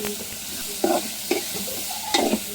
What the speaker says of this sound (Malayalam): കുറച്ച് മഞ്ഞൾപ്പൊടി ചേർക്കുകയാണ് എന്നിട്ട് നന്നായിട്ടൊന്ന് ഇളക്കി കൊടുക്കുക